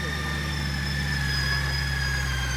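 A Honda Goldwing motorcycle engine idles close by with a low, even rumble and a constant mechanical hum, unbroken for the whole stretch.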